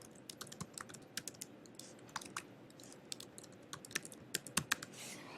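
Fingers tap on a computer keyboard typing an email address, quick irregular clicks in short bursts, close and quiet in an otherwise silent room.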